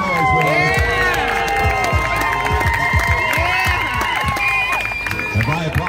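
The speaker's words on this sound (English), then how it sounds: "How many of you guys are cheering for Martinez and Moran out there? Make some noise, boys." A crowd at a beach volleyball tournament final in Hawaii cheers, whoops and shouts loudly and continuously, with scattered clapping mixed in and voices rising and falling over several seconds.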